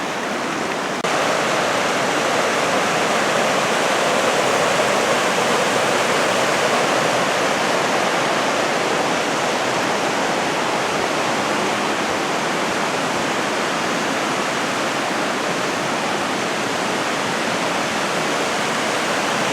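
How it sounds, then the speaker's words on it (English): A waterfall roars steadily where Talapus and Olallie creeks merge on a forested slope above I-90, a loud, constant rushing wash of water with no breaks and no voices throughout. "they merge right here where the waterfall is and head down slope toward I-90"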